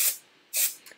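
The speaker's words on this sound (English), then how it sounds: "It's like an aluminum little can and it has an aerosol spray." An aluminum aerosol can releases invisible powder spray in two long, close hissing bursts, then a short faint puff at the end, with quiet gaps between.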